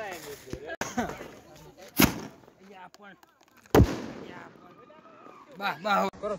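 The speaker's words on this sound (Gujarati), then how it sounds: "આપણે હવે આ મોટો ફોડી નાખી બોમ્બ" Two big Diwali firecracker bombs go off as sharp, loud bangs, several seconds apart, amid people talking and calling out around them.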